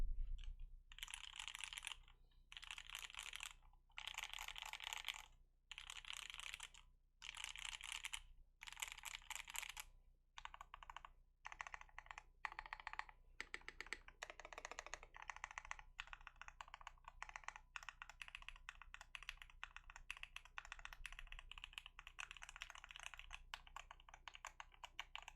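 Rapid clacking keystrokes on a Mode 80 mechanical keyboard, close and crisp, starting in bursts with short pauses and then settling into steady fast typing for the rest of the stretch.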